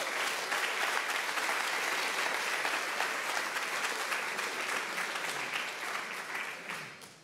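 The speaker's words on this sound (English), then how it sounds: "another round of applause for both of them" An audience at a meet and greet claps for two guests in sustained applause; dense, even clapping fills the room for several seconds and then tapers off at the end.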